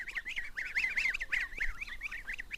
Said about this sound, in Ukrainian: великі великі гуси